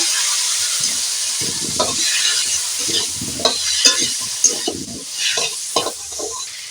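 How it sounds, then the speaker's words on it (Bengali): Papaya and turmeric stirred in a cooking pot, loud close sizzling with a series of irregular scraping stirs and knocks, no voices. "পরিমাণ মতো হলুদ হলুদটা দিয়ে একটু নেড়ে নেব"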